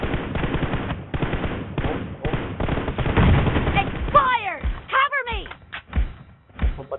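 Rapid gunfire from a video game shooter, bursts of automatic fire with thuds and ringing ricochet-like tones, mixed with game sound and talk over a slightly laggy match.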